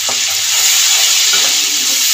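Tomato paste sizzles steadily in a hot pan while a Bengali prawn and taro stolon curry is being cooked, giving a continuous close, loud frying hiss with light stirring.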